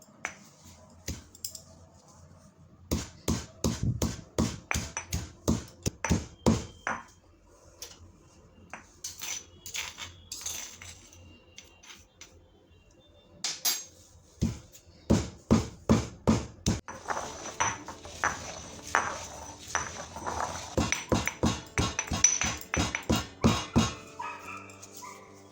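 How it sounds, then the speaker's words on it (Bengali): Spices for olive oil pickle pounded by hand in a mortar, crisp rapid knocks in bursts of regular strikes with short pauses between runs, close and fairly loud. "আমি এখন এই মশলাগুলো আমি এতে দিয়ে আমি কুটে নেব।"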